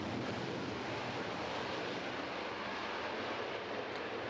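F/A-18E/F Super Hornet jet taking off in about 1,000 feet: a steady, loud broadband engine roar filling the whole span without a break, and no speech.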